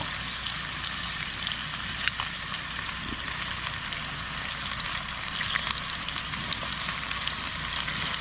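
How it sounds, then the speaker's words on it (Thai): Pork sizzling as it fries in a pot at a campsite, with steady crackle and hiss and occasional scraping as the pieces are turned and stirred, close and continuous with no talk. "นี่เดี๋ยวพลิกไปพลิกมาคั่วไปคั่วมาทอดไปทอดมา"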